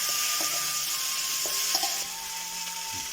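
Raisins and cut lemons for a hot-and-sweet lemon pickle sizzle in a hot pan with a steady hiss, broken by a few soft clicks and scrapes as they are stirred.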